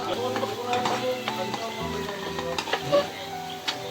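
Turmeric and paneer gravy masala sauté in a hot pan for paneer matar masala, a steady soft sizzle broken by scraping stirs and light utensil ticks, with a voice talking in the background.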